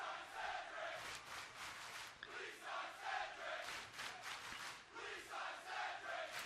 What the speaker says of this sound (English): crowd is chanting, "Please sign Cedric."